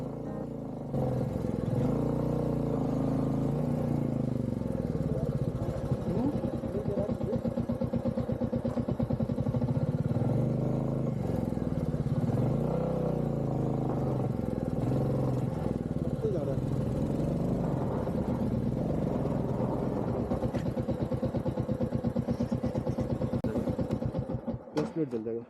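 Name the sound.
pickup truck engine straining on a dry dirt slope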